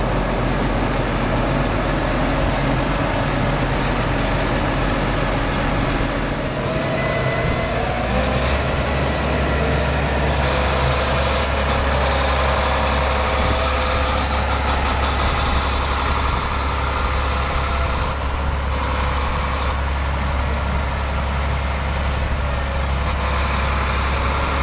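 A John Deere 8RX 370 tractor fitted with 1,000-gallon fender tanks idles loudly and steadily at close range, a deep continuous engine drone throughout with no talk.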